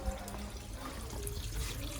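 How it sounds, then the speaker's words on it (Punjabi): Tap water runs steadily into a washing machine tub for a laundry load, an even, close rushing and splashing with no pauses. "ਨਹੀਂ ਜੀ ਪਾਣੀ ਛੱਡ ਦਿੱਤਾ ਜੀ ਹੁਣ ਥੋੜੇ ਟਾਈਮ ਲਈ ਮਸ਼ੀਨ ਚਲਾ ਦਾਂਗੇ"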